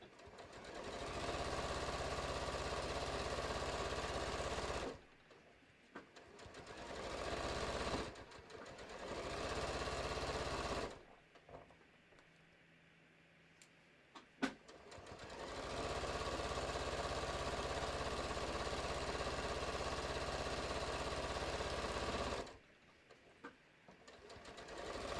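A sewing machine runs rows of stitching on a fabric bucket hat, buzzing in long steady bursts separated by short pauses, close and clear with no talking.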